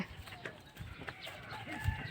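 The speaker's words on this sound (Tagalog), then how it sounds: "Ito yung manok na ilalagay natin" A chicken clucks softly and intermittently nearby, low-pitched murmuring calls against faint outdoor background noise.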